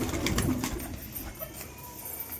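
Pigeons cooing at night close by, a few soft throaty coos and rustling over a quiet background, with no speech.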